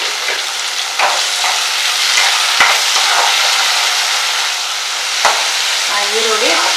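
Two medium onions frying in a spiced oil tempering for avarebele saaru while a spatula stirs them, a continuous close sizzle broken by a few sharp scraping knocks against the pan.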